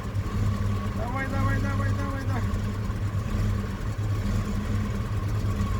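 A UAZ Hunter's engine, just started after standing idle, runs with a loud, close, uneven rumble and some faltering, while people talk over it.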